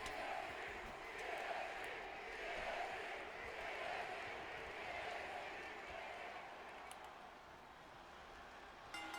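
A sold-out arena crowd in WWE 2K25 cheers with a steady, distant roar that swells and eases in waves, under a voice talking over it.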